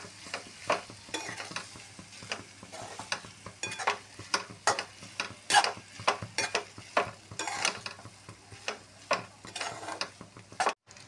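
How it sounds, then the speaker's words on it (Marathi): Pasta tossed with spices in a pan gives a steady run of rhythmic scraping and clinking stir strokes over a soft sizzle, close and fairly loud, with no talk. "सर्व मसाले या पास्त्यामध्ये आपण छानपैकी मिक्स करून घेणार आहोत."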